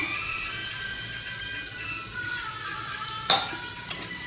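Liver masala sizzles quietly in a pan as water is poured in, a soft frying hiss under a thin trickle, with a couple of sharp splashy bursts near the end.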